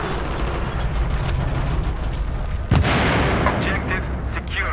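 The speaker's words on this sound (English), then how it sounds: "Some grenades on Alpha, there's a lot." Grenade explosions in Battlefield 3 on the Epicenter map: a loud, heavy boom bursts out midway through dense, continuous battle noise and gunfire.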